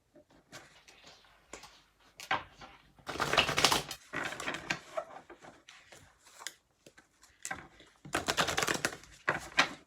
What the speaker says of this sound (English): I'm going to take some cards from the Kipper deck.